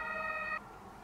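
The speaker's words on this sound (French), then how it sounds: "Là, je vais laisser passer l'ambulance." An ambulance siren wails steadily for about half a second, fairly faint, then cuts off abruptly, leaving a quiet background.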